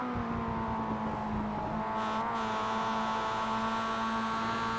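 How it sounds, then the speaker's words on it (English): Race car engine in a GRIDLIFE Sim City Challenge heat race, droning steadily and loud with a sustained tone, revs rising as the car goes light cresting a hill; no talking. "You can hear the car get light and the revs climb as they crest that hill."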